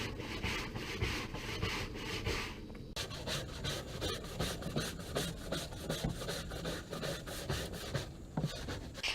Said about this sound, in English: I then took a stiff bristle brush to scrub everything to make sure that I got out all of the dirt and the mildew and the mold.